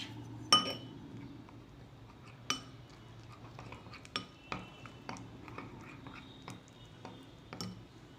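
A spoon clinks against a bowl while a thin batter of maida, rice flour, cornflour, salt and water is mixed, giving scattered sharp taps and scrapes close by with quiet pauses between, no voices.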